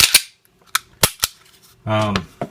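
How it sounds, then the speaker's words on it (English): A Taurus PT111 G2 pistol is dry-fired at close range, giving a few sharp, isolated clicks with a short burst of voice between them. "So you do still have to dry fire it one way or the other."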